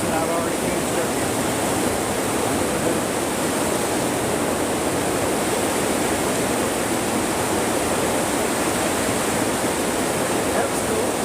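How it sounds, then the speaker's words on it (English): Heavy rain pours down on a vegetable garden during a rainstorm, a loud, dense and unbroken hiss that holds steady from start to finish. "may try to let this rain die down a little bit more"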